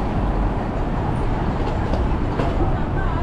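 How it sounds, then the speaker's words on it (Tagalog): Hong Kong MTR train carriage noise, a steady broadband rumble with no distinct events, loud and continuous from close inside. "Dito tayo sa MTR."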